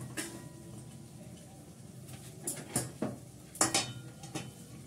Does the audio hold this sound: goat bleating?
no